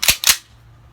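A Tisaş Zigana Sport pistol dry-fired on a snap cap dummy round gives two sharp, close metallic clicks in quick succession, then quiet.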